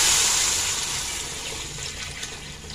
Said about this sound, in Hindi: अब हम इसके अंदर डाल देंगे दूध।